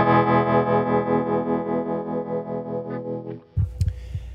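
An electric guitar chord rings through a Hardwire TR-7 tremolo pedal set to the treble position, its volume pulsing in a steady wobble as it decays, followed by a few muted string scrapes and taps.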